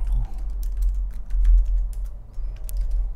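Rapid clicking of keys as text is typed on a computer keyboard, close and fairly quiet over a low steady hum, with an irregular patter of keystrokes throughout.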